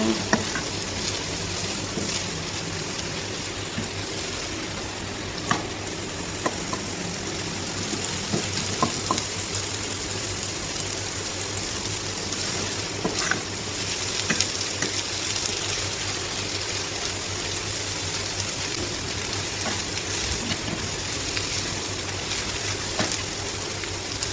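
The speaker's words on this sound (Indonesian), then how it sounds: "Jangan lupa diaduk agar tingkat kematangannya merata ya" Radish cake and dried shrimp sizzling steadily in a hot pan, stirred with a utensil that adds soft scrapes and clacks over a continuous close frying hiss.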